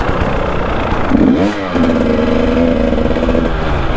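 A motorcycle engine revs hard on a UK green lane, a loud, close rising roar that dips and holds at a steady drone.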